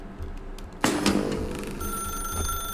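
An in-game telephone in The Stanley Parable rings with a sudden loud metallic bell burst that trails off into a lingering ringing tone, heard close and alone.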